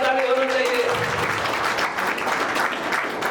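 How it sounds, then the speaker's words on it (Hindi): A crowd gives loud, sustained applause for an honoured doctor at the opening ceremony of a play school and coaching centre. A voice fades out as the clapping builds and continues throughout. "सम्मानित डॉक्टर के लिए एक बार जोरदार ताली दे हो जाए।"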